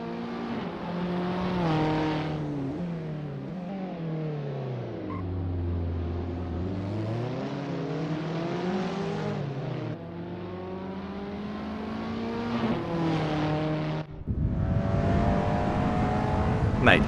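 Abarth 500 race cars howl around a track in the racing game Assetto Corsa, one buzzing engine note rising and falling through gear changes, steady and fairly loud, then a sudden rougher surge near the end.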